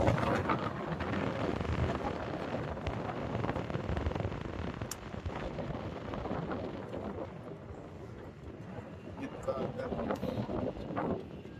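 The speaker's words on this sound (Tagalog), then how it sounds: "So inapla kami nito at medyo malakas ang hangin" Strong wind buffets the microphone in heavy, uneven gusts around a ship's mooring winch, with people talking under the roar.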